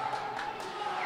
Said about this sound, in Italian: Pubblico inferocito.